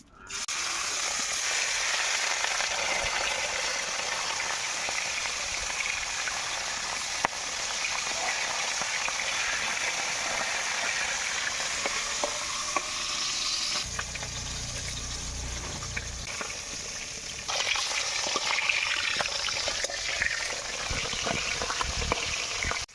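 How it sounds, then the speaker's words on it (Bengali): Fish frying in hot oil in a wok, a loud, steady, dense crackling sizzle that lasts the whole time, briefly shifting as pieces are moved, with no talk. "তেল গরম হয়ে গেছে, মাছগুলো দিয়ে দেবো।"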